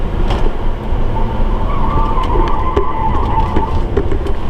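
Car with a 25mm rear sway bar cornering in an elongated tight turn on a skid pad, a loud steady engine and road roar heard from inside, with faint tire noise throughout.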